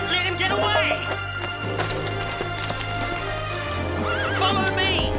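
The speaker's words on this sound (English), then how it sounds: "That's my horse! That's the Silver Colt!" A horse in an animated series neighs loudly twice, a shrill whinny at the start and another near the end, with galloping hoofbeats and music running underneath.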